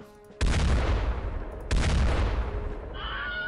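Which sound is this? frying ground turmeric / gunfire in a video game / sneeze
gunfire in a video game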